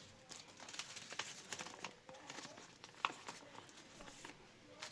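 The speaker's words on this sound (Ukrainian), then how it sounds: "Відкриваємо наш пакетик." Crinkling and rustling of a paper packet being torn open and handled, with irregular close crackles and small taps over about five seconds, fairly quiet and without speech.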